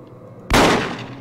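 A single loud shotgun blast goes off up close at zombies in Project Zomboid, bursting suddenly out of a quiet background and then fading out slowly.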